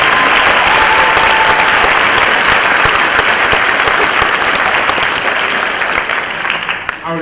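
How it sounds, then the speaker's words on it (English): A large audience at a county chorus concert gives the music teachers a loud, sustained round of applause, dense clapping that holds steady and thins slightly near the end. "Let's give our music teachers a big round of applause."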